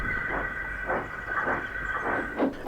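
Thomas the steam engine puffs along with his train, steady rhythmic chuffs of steam with a hissing undertone and rolling rail noise, moderately close.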